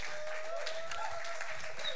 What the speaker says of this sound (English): Let's give Damon a huge round of applause